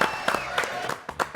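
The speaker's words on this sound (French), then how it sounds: "Applaudissements pour Fabienne Thibault." Studio audience applause on a French TV show, dense broadband clapping that swells in a few pulses over about a second and a half.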